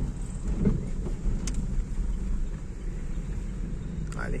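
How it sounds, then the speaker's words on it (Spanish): A car on a driving-lesson track slows under engine braking and downshifts to second gear, heard as a steady low engine rumble inside the cabin with some wind noise. "Y ahí ya vas tocando un poco más el freno y ahí hace un rebaje"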